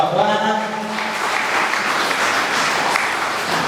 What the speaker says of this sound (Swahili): piga makofi ya shukrani kwa Bwana.